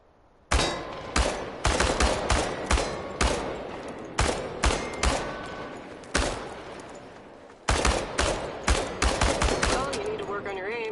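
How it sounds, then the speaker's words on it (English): Automatic gunfire aimed at cans on a video game shooting range, with loud sharp shots in rapid bursts and brief pauses between them. "The biggest challenge is compensating for recoil in automatic firing mode."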